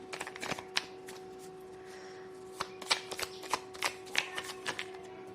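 Tarot cards being shuffled by hand: quick, crisp riffles and flicks in uneven bursts, close and clear, with a faint steady hum underneath.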